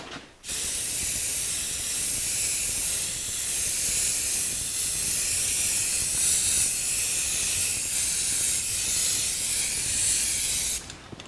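An aerosol can sprays a top coat onto the fender well of a 1949 Chevrolet gasser, a loud continuous hiss lasting about ten seconds close by, starting and stopping abruptly with no voices.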